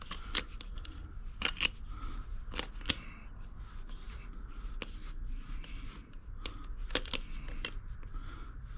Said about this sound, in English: I should cut about half that off.